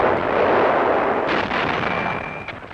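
A World War Two T-26 tank gun fires point blank at a German Mark V tank in a city on the road to Cologne, a loud sustained roaring blast with a rumbling decay and no voices.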